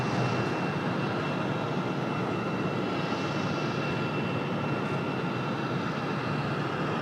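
An ATR turboprop airliner touches down with a slight bounce on runway 5 right at Raleigh-Durham International, its steady engine roar and broad rumble holding level and fairly distant for the whole stretch.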